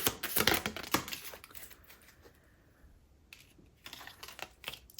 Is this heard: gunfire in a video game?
no